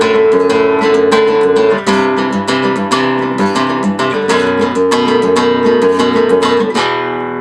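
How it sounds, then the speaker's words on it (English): Spanish guitar played with the alzapúa right-hand technique, rapid repeated thumb strokes and strums across a group of strings in a driving, steady rhythm, loud and close with no voices. "how to perform the Alzapua right hand technique, and it sounds like this"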